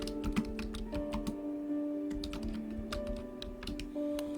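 Someone types on a computer keyboard: a quick, uneven run of light key clicks, close and fairly quiet, over a soft steady background hum.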